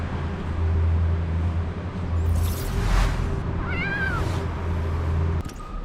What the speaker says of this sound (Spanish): Bueno, acá hay otro gato.